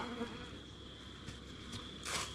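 Honeybees buzzing in front of their hives on a cloudy autumn day, a dense, steady drone close by with individual bees whizzing past the listener, no talking.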